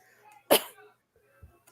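A single sharp cough, close and fairly loud, followed by a short breath.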